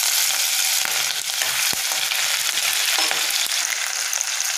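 Cumin, black pepper, ginger, garlic and green chilli fry in oil in a kadai with a loud, steady close sizzle, marked by a few sharp crackles and pops and the scrape of stirring.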